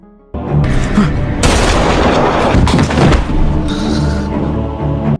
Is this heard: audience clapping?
no